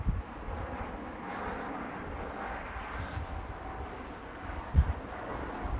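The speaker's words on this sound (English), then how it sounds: "So you could probably hear this plane flying over me." A fixed-wing airplane passes overhead about two miles from an airport, a faint steady engine rumble heard outdoors under light wind, with a brief thump near the end.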